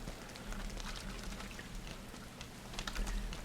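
Steady rain falling in a video game scene, a dense hiss of drops pattering on surfaces with faint scattered taps, even and continuous throughout.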